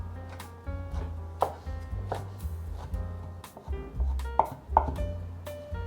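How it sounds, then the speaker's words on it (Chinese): A knife mincing shiitake mushrooms on a cutting board gives a run of quick, crisp chops in an uneven rhythm, close and moderately loud. "把香菇换一个方向切碎"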